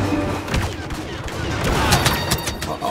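Blaster gunfire from a Star Wars Battlefront battle, continuous overlapping shots and sharp cracks with distant booms, a busy layered firefight at moderate loudness.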